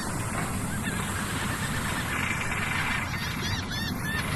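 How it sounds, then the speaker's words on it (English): Birds honking like geese in the video game I Expect You To Die, set in the Caribbean wilds: repeated short honks and calls over a loud, steady rushing background, growing busier toward the end. "Why are there birds here?"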